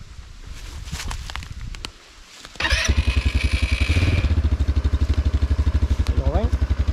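Fourtrack Pentora 150cc Chinese ATV, a Yamaha Raptor replica, fires up after a brief crank and settles into a loud, close, rhythmic idle chug, with outdoor rustling beforehand.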